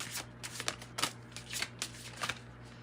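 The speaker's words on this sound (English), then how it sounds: "I'm pulling from Sacred Spirit Oracle decks first." A Sacred Spirit Oracle card deck is shuffled close up, giving quiet, rhythmic papery riffles in quick bursts of about two per second.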